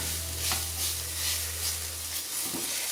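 Minced meat and flour browning in a pan for an Aussie meat pie give off a steady, even sizzle over a low hum, with no voices.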